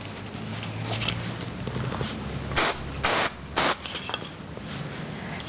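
Theory Firm hairspray is sprayed onto a styled hair knot in three short, loud hissing bursts, close up, over a low room background.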